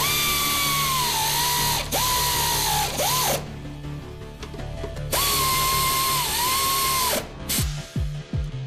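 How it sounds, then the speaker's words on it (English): Power tool or ratchet tightening the three upper strut mounting plate bolts on a 2001 Toyota Camry during a Monroe Quick Strut install; two loud sustained whirring bursts with pauses and short clicks, close and without talk. "Lower the vehicle and tighten the three upper mounting plate bolts."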